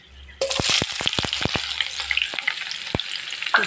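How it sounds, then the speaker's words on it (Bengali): Chopped onion is poured into hot oil with bay leaf and dried chillies, setting off a sudden loud sizzle that keeps crackling up close, with a string of quick popping spatters. "এবার পেঁয়াজ কুচিটা ঢেলে দেব"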